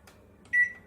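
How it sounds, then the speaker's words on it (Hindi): A microwave oven set to convection mode for baking puff patties gives a single short electronic beep midway, alone against a quiet room. "चलिए माइक्रोवेव स्टार्ट करते हैं।"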